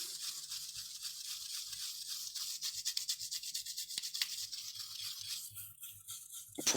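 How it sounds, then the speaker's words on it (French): Brisk back-and-forth scrubbing of a toothbrush cleaning off residue, close and fairly quiet, a continuous rough bristly rasp with no talking. "Petit coup de brosse à dents."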